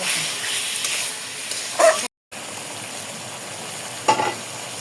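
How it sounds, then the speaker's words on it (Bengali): Chicken meat from a native hen, sautéed in a pressure cooker with spices including black pepper, gives a steady low sizzle and frying hiss throughout, with a couple of brief louder stirring scrapes and a short gap in the middle. "মাংসটা দিয়ে ভালো মতো কষাই নেব।"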